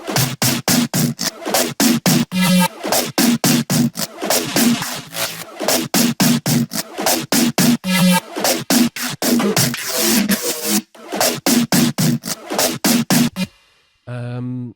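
Punchy, heavily processed electronic bass hits in a rhythmic, chopped pattern, loud and close, ending with a brief gritty tail.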